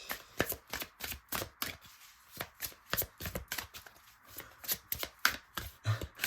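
Oracle cards being shuffled for a card reading, a quick series of soft riffling bursts and taps repeating close up and fairly quiet, with no talking.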